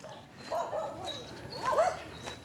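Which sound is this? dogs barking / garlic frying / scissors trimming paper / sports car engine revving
dogs barking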